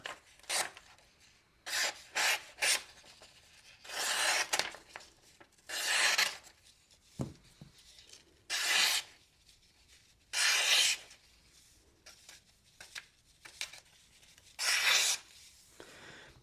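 Benchmade Bugout and Kershaw Bel Air knives slicing test cuts, a series of short rasping strokes, some quick and clustered, others longer, with quiet gaps between them.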